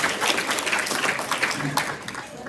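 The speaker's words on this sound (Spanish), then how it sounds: "Aplauso para su compañera." A short burst of clapping from students in a classroom fills the room, fairly loud and close, fading slightly toward the end.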